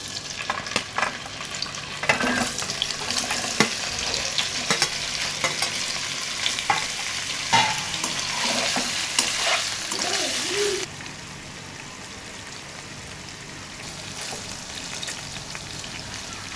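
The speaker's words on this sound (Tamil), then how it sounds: "எண்ணெய் சேர்த்துட்டு இந்த பன்னீரை கொஞ்சம் லேசாக வறுத்து எடுத்துக்கலாம்." Paneer lightly frying in a little oil in a kadai, a dense crackling sizzle with occasional spatula knocks, easing to a quieter, softer hiss for the final few seconds.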